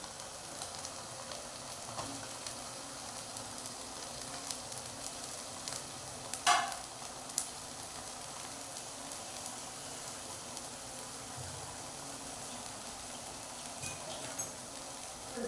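A soft, steady sizzle as ground masala paste cooks in a hot pan for horsegram sambar, with an occasional faint clink or scrape; quiet and with no voices.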